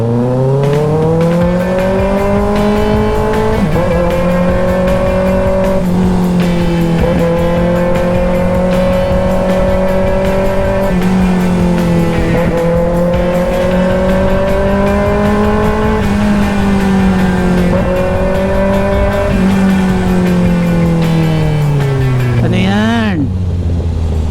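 Road traffic in Parañaque, near the Skyway, flows past in a steady loud roar of car engines, with vehicles passing close by and rising and falling engine tones throughout.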